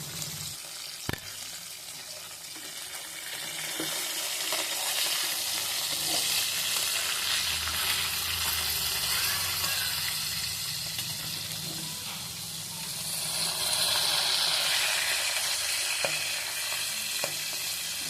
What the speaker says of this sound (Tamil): சூப்பராக ஃப்ரை ஆகிட்டு இருக்கிற ஃபிஷ்ஷை நம்ம இப்போ திருப்பி போட்டுக்கலாம்